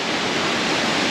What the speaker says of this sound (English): and then the water flowing down here